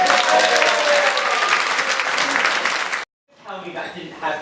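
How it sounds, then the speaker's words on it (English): A theatre audience applauds loudly after an outdoor performance of Shakespeare histories at Traquair, steady dense clapping that cuts off abruptly, followed by someone speaking close up. "did you clock that applause?"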